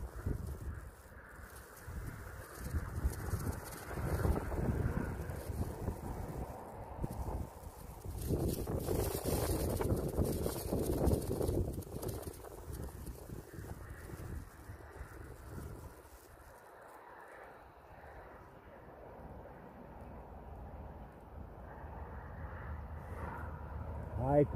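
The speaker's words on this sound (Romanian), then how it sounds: "Ce bate vântul ăsta" Strong wind blows outdoors on a wintry day, a rushing, buffeting roar against the microphone that rises and falls, with people talking over it.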